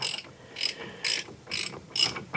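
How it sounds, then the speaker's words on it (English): A ratchet tightens brake bolts on a Chevy Equinox, five quick bursts of close clicking separated by short pauses as the handle swings back and forth. "Now we'll get the ratchet."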